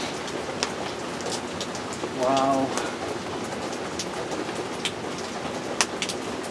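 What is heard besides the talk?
heavy rain downpour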